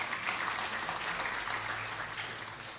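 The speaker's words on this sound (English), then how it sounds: "Can we give them a round of applause," Lecture audience in Jakarta, Indonesia applauding students at a public STEM event; a short, steady wash of clapping throughout.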